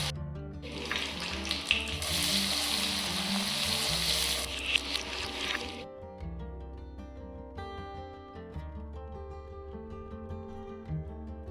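Chopped onions fry in a pan for a chicken sanju baba, a bright close hiss that lasts about five seconds before dropping to softer stirring and cooking sounds.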